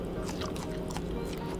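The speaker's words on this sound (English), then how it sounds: "It's just chewing." Someone chewing food in a mukbang, wet squishy bites and mouth sounds close to the microphone, continuous and fairly loud with no clear speech.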